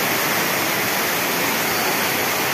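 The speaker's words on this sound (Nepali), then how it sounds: "अहिले चाहिँ रुटमै गएको छ पानी।" Water rushes steadily through the Maya Hydro dam channel on Maya Khola in Dharmadevi, a dense, loud, continuous roar with no pauses and no voices.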